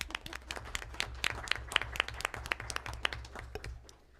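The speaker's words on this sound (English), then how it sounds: "Let's have applause for these great accomplishments" Applause at a school board of education meeting, a steady patter of many hands clapping at moderate volume for student accomplishments, continuing alone without talk throughout.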